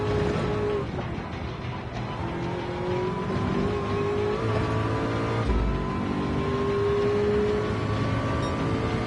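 A Gran Turismo 7 race car at Daytona holds a steady, sustained engine drone with shifting pitch as it drives through a corner, loud and continuous throughout with no talk.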